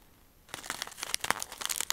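A tea packet crinkles and rustles as a small dragon-shaped tea piece is pulled out, crisp irregular crackles starting after a brief quiet and continuing close to the ear.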